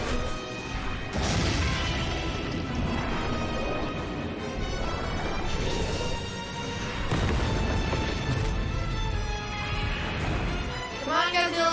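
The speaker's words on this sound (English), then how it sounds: "Gamera full explosion." Explosions and crashing impacts from a Death Battle animation pitting Godzilla against Gamera, loud and sustained with repeated booms and smashes over music, while a person talks over the action.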